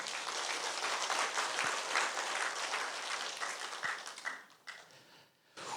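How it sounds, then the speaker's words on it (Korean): A church congregation at a Sunday worship service applauds together, a sustained wash of many hands clapping at a moderate distance that thins out and fades near the end. "우리 박수 한번 할까요?"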